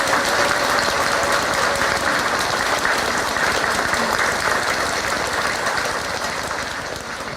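A church congregation applauds during Mass at a stained glass blessing, steady sustained clapping from a large crowd filling the hall without a break.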